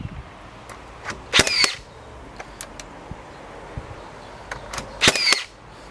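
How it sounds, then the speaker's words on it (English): A Makita 18V cordless framing nailer drives nails into wood, firing twice with sharp, loud bangs a few seconds apart, each followed by a brief whirring mechanical reset, with softer clicks and handling noises in between. "This is a powerful nail gun."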